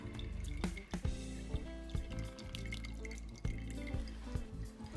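Whey from homemade ricotta made with whole milk and heavy cream drains at room temperature, with steady drips and trickles of liquid falling into a bowl. The sound is faint and close, with no talking.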